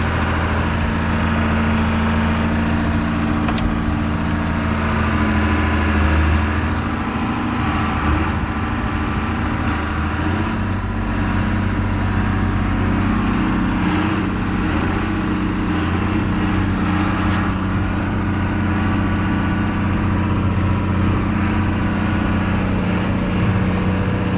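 Engine of a 4960 idling steadily while it warms up, a continuous low rumble with a mechanical hum, close and fairly loud, running unchanged for the whole stretch without anyone speaking.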